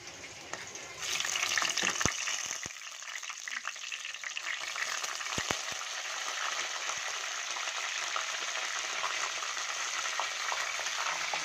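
Dried red chillies and curry leaves drop into hot oil, which bursts into a loud, steady sizzle after a second, crackling up close with a few sharp clicks from the pan and no talk.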